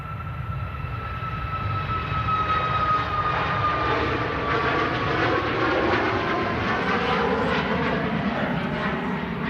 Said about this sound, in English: TUI Max. About to rotate from 23 right here.